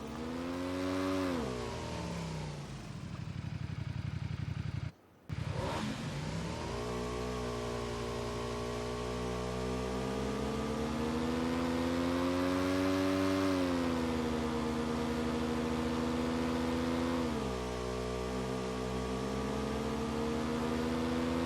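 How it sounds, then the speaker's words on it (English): A motorcycle engine in the video game PUBG runs continuously at close range, a loud steady drone whose pitch rises and falls as the bike accelerates, with a brief cut-out early on. "I'm gonna grab the motorcycle."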